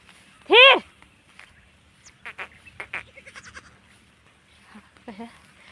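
A single loud goat bleat rings out up close, followed by softer scattered animal calls and faint background voices.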